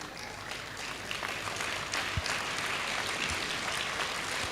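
Audience at a medical college graduation day claps before a name is announced, a soft, continuous spread of applause in a large hall with occasional louder claps and thumps.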